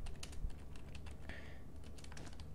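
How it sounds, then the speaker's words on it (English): Rapid, irregular clicking of keys on a computer keyboard during a Minecraft game session, with close, crisp taps over a steady low hum. "Apparently I'm typing too fast."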